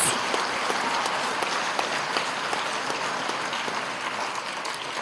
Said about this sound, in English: let's have a round of applause for our students who achieved honors in 5 classes